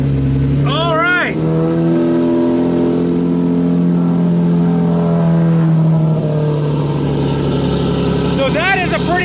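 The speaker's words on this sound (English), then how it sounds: "So that is a pretty loud car." A Lamborghini movie car fitted with a Velocity AP X pipe exhaust revs loudly and close, its engine rising and falling in sustained sweeps, with sharp blips at the start and end and brief talk over it.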